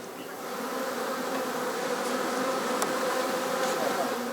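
Honey bees swarm around beehives in Tibet, a dense, steady close-up buzzing that holds at an even level throughout with no pauses.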